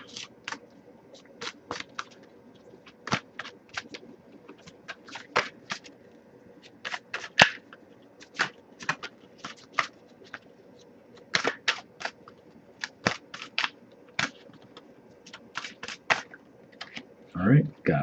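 An oracle card deck is shuffled by hand in a love-themed tarot reading, producing a busy series of crisp riffling clicks and card snaps that run throughout at close range.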